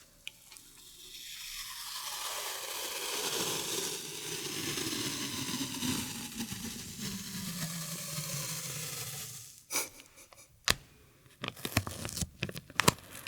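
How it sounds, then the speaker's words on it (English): Adhesive tape being pulled off and torn for ASMR, a long continuous ripping strip that fades, followed by a few sharp separate rips and crinkles close to the mic, with no talking. "do some tape sounds."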